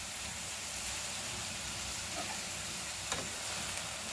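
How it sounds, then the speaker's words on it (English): Coriander and mint leaves cooking in a pan for chutney, with salt, turmeric and tamarind added, giving a steady, soft, even sizzle with no talk over it. "You can see that the coriander leaves and mint leaves are cooking"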